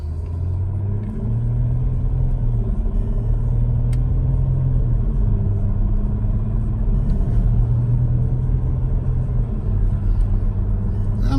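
A 2008 Mercedes ML 320 CDI diesel 4x4 climbing a hill at about half throttle, its engine a steady, loud low rumble heard from inside the cabin with faint gear-shift changes in pitch, no voices.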